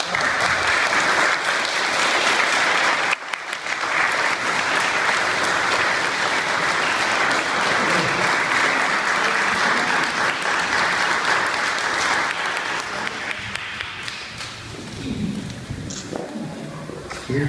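Sustained applause from a gathered congregation honouring a couple's 60th wedding anniversary, steady dense clapping for about twelve seconds that then thins and fades toward the end.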